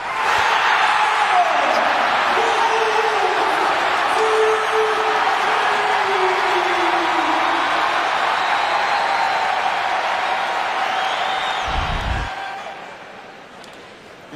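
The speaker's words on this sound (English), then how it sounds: "watch Wolf sit back and listen to the crowd" Crowd in a college basketball arena at a Wagner versus Missouri game, a loud sustained roar of cheering and applause filling most of the stretch, fading near the end, with a brief thump.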